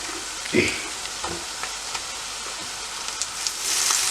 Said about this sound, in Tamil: இனி நாங்கள் இதுக்குள்ளே பண்டி இறைச்சியை போட போகிறோம்